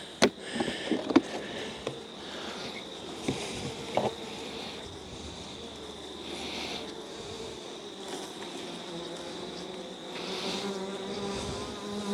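A queen bee flies close by with a steady insect buzz that keeps going throughout, under a few faint clicks and handling sounds near the start.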